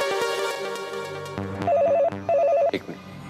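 Telephone ringing in a hospital setting, an electronic warbling ringtone in two clear bursts over a musical background, close and fairly loud.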